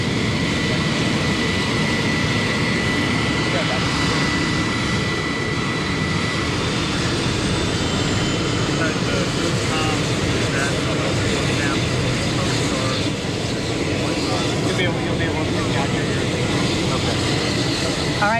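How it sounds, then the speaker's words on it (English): Helicopter rotor and engine noise at an airport during a hurricane briefing, a loud steady whine and broadband roar persisting throughout, with voices faintly under it. "He's waiting for the chopper blades to slow."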